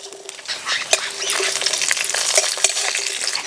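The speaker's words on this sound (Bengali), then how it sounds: "এই মশলাগুলো অল্প করে তেল দিয়ে ভাজবো।" Whole coriander, cumin, cinnamon, cloves and cardamom with green chillies sizzle and crackle steadily in a little hot oil, with occasional sharp pops and stirring scrapes, close and continuous.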